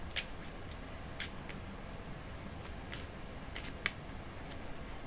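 Soft, crisp riffling and flicking of playing cards in short bursts, quiet and close, with no voices.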